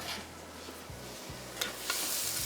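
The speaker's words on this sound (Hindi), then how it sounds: "ये सारा लहसुन शामिल किया। इसको थोड़ा सा हम पहले करेंगे फ्राई।" Chopped garlic frying in hot oil gives a continuous close sizzle, with a couple of scraping stir strokes against the pan and no voices.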